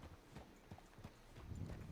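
A ridden horse's hooves clip-clop along at a steady walking pace, faint and a little distant over soft background noise.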